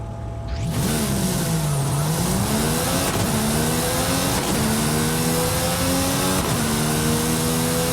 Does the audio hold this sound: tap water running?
no